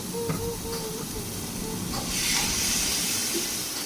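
Water splashed into a hot cooking pan on a gas stove hisses and sizzles, the steamy burst swelling midway and lingering loudly with faint background clatter.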